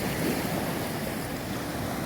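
Surf washing onto the beach at Juan Dolio on the Caribbean coast of the Dominican Republic, a steady broadband roar of breaking waves mixed with wind buffeting the microphone, constant and fairly loud throughout with no voices.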